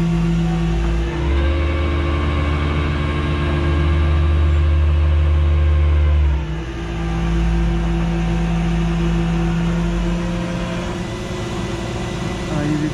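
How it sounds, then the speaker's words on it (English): Tow truck with its bed tilted as a car on skates slides down it, a loud steady low engine drone with a rising whine that drops away partway through, continuing near and alone. "I tilt it so that I get that pitch that I want, and the car slides right down the bed."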